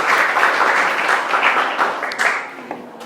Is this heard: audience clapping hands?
yes